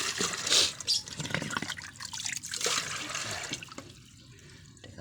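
Water splashes and gushes steadily into a container, fairly close, with a rushing, trickling texture that eases off toward the end.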